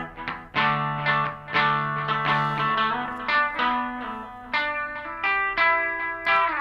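Electric guitar run through a Mad Professor BlueBird Overdrive pedal with a touch of delay, playing sustained overdriven notes and chords with audible repeats trailing behind each attack, steady and fairly loud with no talking.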